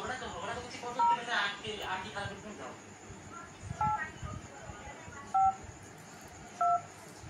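Several telephone keypad tones beep one at a time at irregular intervals while a person talks softly in the background.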